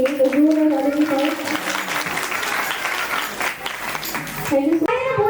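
Applause rolls steadily through an audience at a foundation event, a dense continuous clapping with voices talking over it at the start and again at the end.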